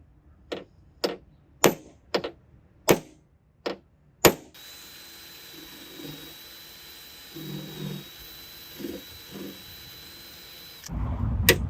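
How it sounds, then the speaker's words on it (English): A row of sharp metallic clicks, then a drill with a spot-weld bit runs with a steady high whine for several seconds, drilling out spot welds on a car bracket, before a louder rough burst at the end. "I picked up this drill bit for spot welds, which is going to neatly remove the spot welds off that bracket"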